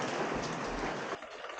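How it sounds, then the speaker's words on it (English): Steady rain during a wet spell on rural land pours down as a dense, even hiss that drops to a thinner patter just before the end, with no voices. "it's been raining on and off constantly the whole day"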